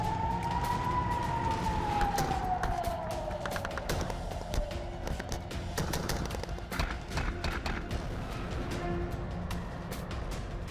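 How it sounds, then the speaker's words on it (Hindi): A single siren in a war zone wails faintly at a distance, rising and then slowly falling over a steady rumble of background noise, with scattered clicks and knocks. "कहीं धमाकों की गूंज है तो कहीं सायरनों की चीख है"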